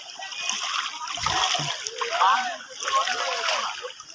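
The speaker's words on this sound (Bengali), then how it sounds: "এই তো আমাদের দাদা মানে হচ্ছে জলের মধ্যে লাফাচ্ছে" A man jumps about in floodwater in front of a house in Dakshin Dinajpur, West Bengal, making repeated splashes and sloshing, with people talking over the water.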